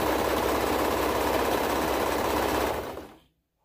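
Serger overlock machine stitching fabric for a toddler hoodie, a steady, close, loud mechanical whir that runs continuously for nearly three seconds before winding down to silence.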